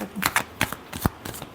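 Tarot cards being shuffled by hand, a quick flurry of soft riffling snaps and flicks, close and fairly quiet.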